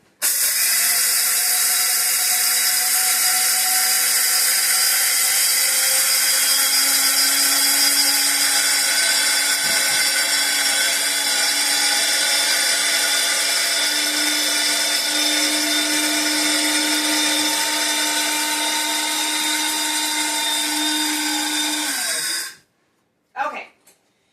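An electric appliance grinds ingredients for homemade bread, giving a loud, steady mechanical whir that runs unbroken for over twenty seconds before cutting off abruptly, followed by a few brief clunks.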